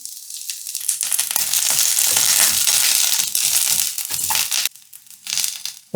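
Chopped Chinese cabbage (bok choy) hitting hot oil in a pan, giving a loud, steady crackling sizzle for several seconds before it drops away into quieter stirring and scattered pops.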